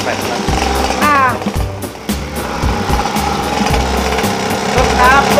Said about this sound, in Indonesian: Nah, itu dia suara motor ini.